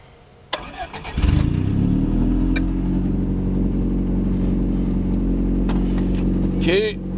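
A Toyota motorhome with a Toyota 20R engine cranks briefly after a click, catches and settles into a steady, close idle rumble. A few faint knocks and a squeak are heard near the end, and someone speaks nearby.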